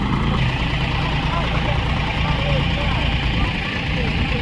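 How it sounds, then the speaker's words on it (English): An Allis-Chalmers diesel tractor engine runs steadily at an antique farm equipment show, a continuous low rumble heard throughout amid crowd noise and talk. "It sounds like a diesel to me."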